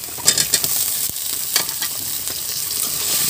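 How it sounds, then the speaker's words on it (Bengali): Cubed potatoes and spices sautéed and stirred together in a hot pan for a banana-flower vegetarian dish, with a steady close sizzle and scraping stir strokes. "আলু আর মশলা এবার একসাথে কষে নেব"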